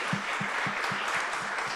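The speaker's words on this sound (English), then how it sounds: "a round of applause to them" An audience at a town hall on presidential executive actions applauds steadily, a dense wash of clapping with no voices over it.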